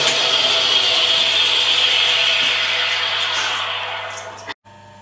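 A tool and cutter grinder fitted with a reinforced cutoff wheel for stainless steel grinds with a loud, steady high whine that slowly fades as it winds down, then cuts off.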